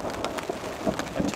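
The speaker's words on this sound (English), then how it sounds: "there's been lightning and thunder, a little bit of hail, and a nice steady rain that's been going on" Steady rain falls on a high mountainside near Truchas Peak, a dense, even hiss of drops close by with soft, dull rumbles of thunder rising briefly underneath.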